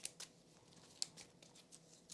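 A deck of game cards being shuffled at a tabletop board game session, giving brief crisp riffling and snapping bursts that recur every fraction of a second, close and fairly quiet.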